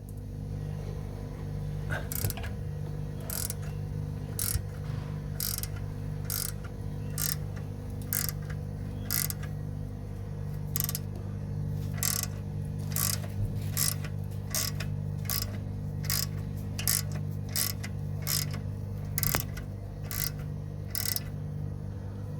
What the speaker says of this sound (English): So I'm going to slowly release pressure on the spring